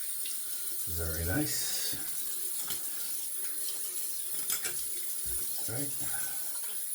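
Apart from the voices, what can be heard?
water tap running for a quick rinse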